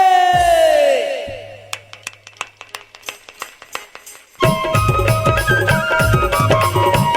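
At a Chhattisgarhi Ramayan devotional gathering, a lead voice sings out and scattered claps follow, then a large crowd bursts into a loud, sustained unison shout of Radhe that fills the space.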